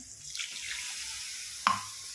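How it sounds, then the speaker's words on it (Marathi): Water runs and splashes softly into a pan of sautéed eggplant, a quiet, steady pour with one brief louder splash near the end. "आता ह्याच्यामध्ये मी पाणी टाकून घेणार आहे"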